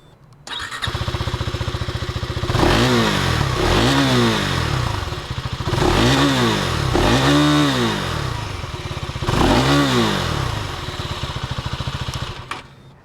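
A KTM Duke Gen 3 motorcycle engine starts and idles, then revs repeatedly in four strong rising-and-falling bursts, loud and close, before settling back to idle.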